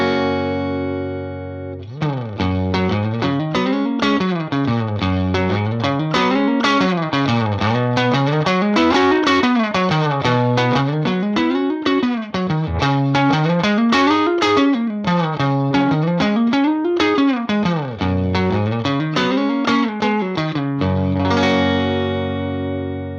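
An electric guitar plays continuously through a UAD Ruby '63 Top Boost amp with clean boost, with a repeating riff of full, bright chords and single notes and no heavy distortion.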